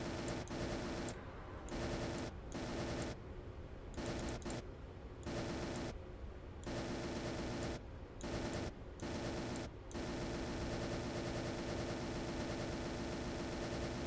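Sustained automatic gunfire aimed at a turret in the space game Space Engineers, loud dense bursts broken by short pauses, continuing steadily to the end with no voices.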